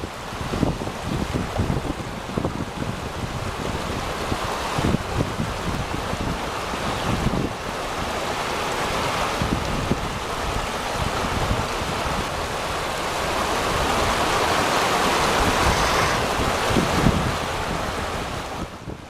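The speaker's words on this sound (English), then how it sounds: "The extremely skillful driver used his skills and experience to move the MAN 8x8 truck very smoothly to cross the river safely." A MAN 8x8 truck fords a glacial river in Iceland, with a long, surging rush and slosh of churned water swelling and easing over many seconds under heavy wind buffeting, and no voices.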